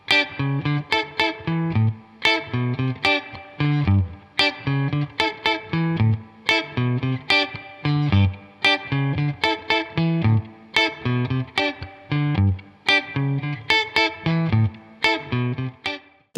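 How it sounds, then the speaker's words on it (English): Guitar chords strummed in a steady rhythm through a Boss reverb pedal, drenched in a splashy, wobbly spring-style reverb that rings between strums; no voices. "So the spring sound on this, it sounds kind of like a spring reverb"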